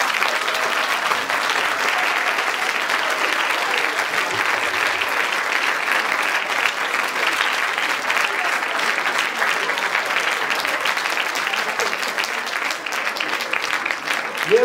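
An audience at an Armenian Mother Language Day event applauds steadily and continuously, a dense sustained clapping from a full hall with no break in rhythm.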